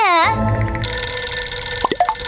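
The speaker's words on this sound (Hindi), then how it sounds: "हाँ, अब किसका फोन आया?" A telephone rings with a bright electronic trill, loud and close, alongside a voice and other animated cartoon sounds.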